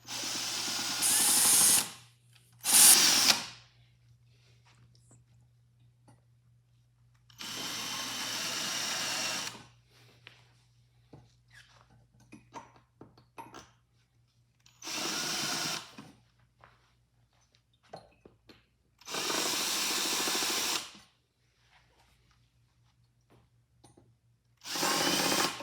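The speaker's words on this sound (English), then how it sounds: "we're just going to take our drill. We're just going to drill right in here, just enough to puncture the back." A power drill bores through the back of a flip-top nesting table during assembly, with several loud whirring bursts of a few seconds each separated by quiet pauses and small knocks.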